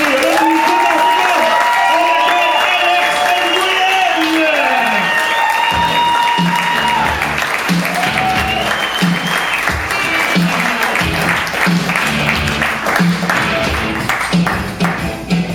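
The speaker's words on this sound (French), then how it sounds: "Je pense qu'on peut réserver une applaudissement, ovation," Audience at a Montreal open mic comedy night in June 2013 applauds and cheers a comedian, with dense, sustained clapping and crowd noise throughout, while a voice speaks over it.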